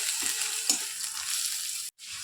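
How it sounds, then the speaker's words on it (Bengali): Soybean curry with potato sautéing in a pan makes a continuous hiss of frying under a few soft stirring scrapes, ending with a short silent break and then the sizzle resumes. "সয়াবিনের তরকারিটা এই যে কষানো হয়ে গেছে"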